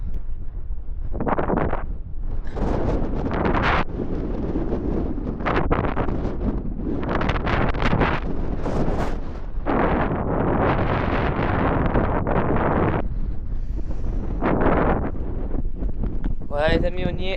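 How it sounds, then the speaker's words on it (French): A gust of wind in Marseille roars across the microphone in close, loud, broadband bursts that rise and fall over and over, with a brief softer patch near the end. "Là encore, coup de vent."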